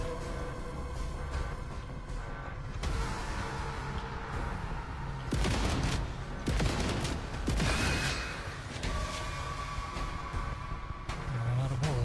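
Gunfire in the game Alien: Rogue Incursion, a dense stream of rapid shots and bursts over a constant background rumble, close and sustained, with no voices.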